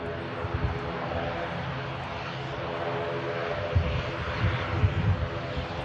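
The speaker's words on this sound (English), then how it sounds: "Aer Lingus arriving in from Belfast." Aer Lingus airliner arriving from Belfast, a moderate, steady engine rumble with a few louder low thumps, under background chatter.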